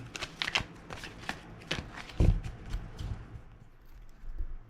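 Tarot cards are shuffled by hand up close, a run of quick riffling flicks and soft slaps, ending with a duller thump and a few fainter shuffles, with no talk.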